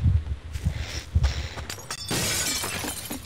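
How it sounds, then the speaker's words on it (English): Glass shatters in a multiplayer video game, several crashing breaks with scattered shards and footsteps, mixed into busy game noise. "if you spam E on glass, it breaks it"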